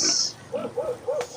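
A sow pig bought for a feast gives three short, close grunts in a steady rhythm after a brief hiss, with no talk over it.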